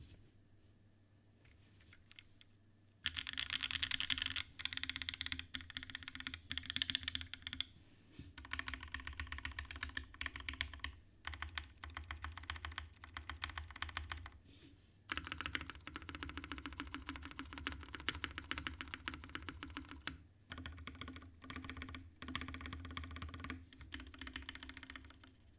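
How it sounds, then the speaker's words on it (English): A custom Alveus MX mechanical keyboard is typed on steadily, giving continuous close clacking keystrokes in long runs broken by brief pauses, with no talking over it. "sounds like a keyboard"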